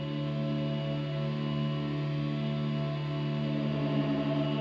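A sustained, heavily processed electric guitar drone through distortion and an Old Blood Noise Sunlight reverb pedal, washed in reverb and chorus, holding steady and loud with no talking.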